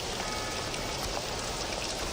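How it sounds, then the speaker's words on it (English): Steady rain pours down outdoors at night, a dense, even hiss of drops on surfaces with no break across the short stretch and no voices. "It rained even harder than this at the boathouse."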